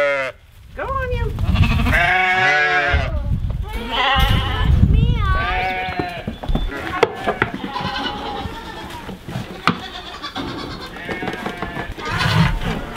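Sheep and goats bleat during milking on a small farm, with several loud, wavering cries close by, some overlapping, followed by quieter scattered calls and background rustling.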